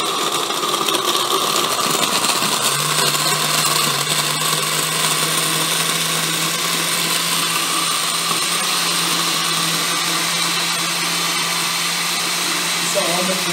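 A blender crushes ice, running steadily throughout, a loud continuous motor whine with a grinding, churning texture, holding an even drone to the end.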